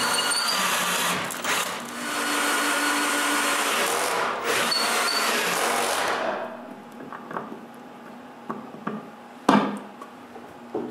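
A power drill whines steadily as it bores holes into wood for several seconds, then stops, leaving a few scattered knocks and clatters.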